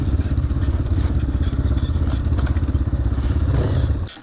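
A Racer SR-X2 enduro motorcycle rides along a forest trail in an old burned area. Its engine throbs loudly and close up with a rapid pulsing rhythm, mixed with clatter and thumps from the rough ground, before cutting off abruptly at the end.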